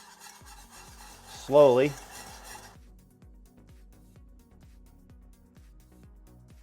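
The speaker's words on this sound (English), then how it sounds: "Now turn off your heat, and we're gonna stir in 1/2 cup of heavy cream." A whisk beats heavy cream into a pan of melted butter caramel in steady, regular strokes, close and fairly quiet, with a brief spoken word partway through.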